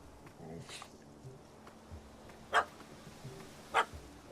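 A dog in The Witcher 3: Hearts of Stone video game gives two sharp, fairly loud barks about a second apart, with softer yips and rustling faintly in between.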